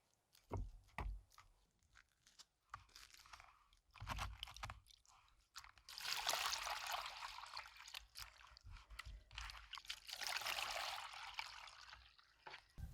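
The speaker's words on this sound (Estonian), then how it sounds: "Võtan ta veest välja ja loputan." Plant-dyed yarn, coloured with moss, is lifted out of the dye water and rinsed. Close wet sloshing, squishing and dripping rise and fall in bursts, with no talking.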